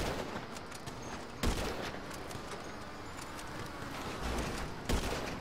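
Gunfire in the online game GTA Online: a couple of sharp shots stand out over a dense, noisy game soundscape, with a steady rumble of clatter and activity underneath.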